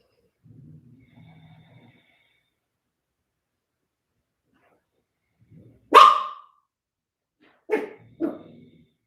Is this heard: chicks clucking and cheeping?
no